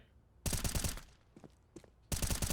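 Two loud bursts of automatic rifle fire in Counter-Strike on the Mirage map during a pro match, each spray a rapid rattling string of shots, with a short gap holding a few scattered single shots between them.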